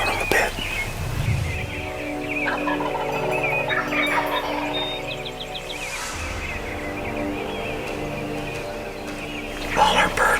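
A wild turkey gobbler at a spring hunting setup, gobbling and clucking among other fowl calls at a moderate distance, with steady outdoor ambience underneath and a louder burst at the end.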